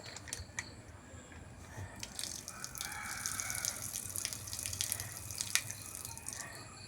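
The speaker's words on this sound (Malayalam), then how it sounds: "കുറച്ച് വെള്ളം കളയാണ്ട്." Water poured out of a betta fish bowl, a close, steady splashing trickle with scattered drips and small splats running throughout.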